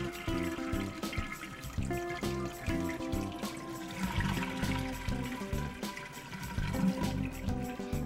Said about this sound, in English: Flush the toilet to empty the tank.